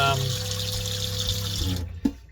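Hot water runs from a motorhome tap through a funnel into the water tank, a steady close gushing stream that cuts off near the end, followed by a brief clunk.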